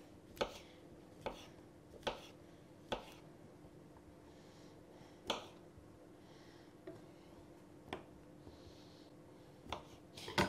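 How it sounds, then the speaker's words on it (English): A knife chops mushrooms steadily on a board, with sharp, evenly spaced strikes over quiet background hum, close and fairly crisp. "Keep chopping these up."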